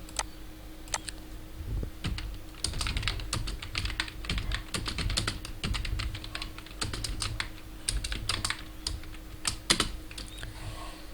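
Typing on a computer keyboard while entering Hindi text in the Mangal font: close, brisk bursts of key clicks with short pauses between runs, heard alone without any talking.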